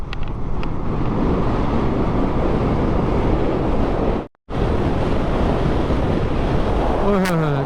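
Sea waves and strong wind at Okha beach in Gujarat make a continuous loud roar of gusts buffeting close by over surf, broken by one brief drop-out.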